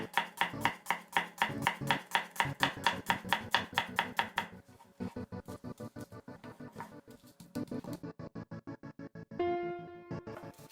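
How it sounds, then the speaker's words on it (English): A knife slices thin rounds of onion on a cutting board, a quick, steady run of sharp, close chops that slows into looser, irregular cuts, with no voices. "Thin slices of onion, chop."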